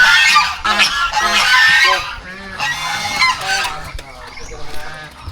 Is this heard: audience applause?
no